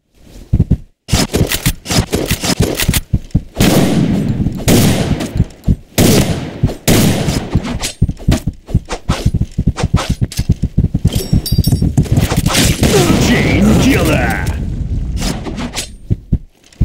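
Rapid, dense Desert Eagle pistol gunfire in a video game, loud and close, with sharp repeated shots and brief pauses for reloading throughout.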